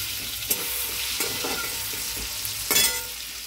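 Potatoes with added tomato frying in a pan, a soft steady sizzle with a few scraping stirs, close and quiet, no voices.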